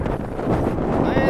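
Strong morning wind gusting across a building site where joint sealing is underway, a loud, close rumbling buffet against the microphone, with a voice faintly present near the end.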